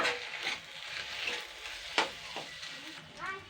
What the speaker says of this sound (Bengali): শুকনো লঙ্কা ধনিয়া আর আস্ত ধনিয়া আর কালো জিরাটা আমি দিয়ে দিচ্ছি